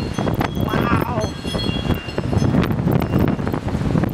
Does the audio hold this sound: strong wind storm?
yes